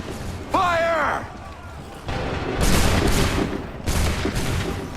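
Musket volleys fired by a line of soldiers in Assassin's Creed 3, several loud crackling bursts separated by short pauses, with a shouted voice just before the first volley.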